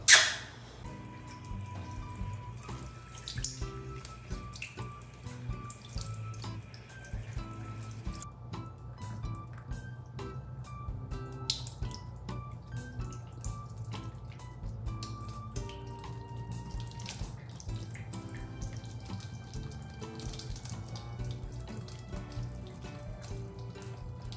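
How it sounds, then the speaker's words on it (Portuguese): Warm tap water runs steadily into a sink while rinsing foamy shampoo from a Barbie doll's hair, a continuous close splashing flow with small drips and trickles throughout. "E agora a gente vai enxaguar para poder jogar a água morninha no cabelo dela"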